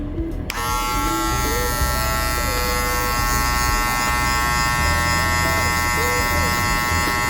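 An electric hair clipper fitted with a comb guard buzzes steadily at close range while cutting hair during a taper fade haircut. The motor drone is continuous and loud throughout.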